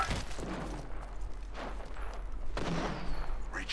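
Gunfire in the video game Apex Legends comes as a few muffled, distant bursts and booms spread through a steady, noisy background, moderately quiet overall.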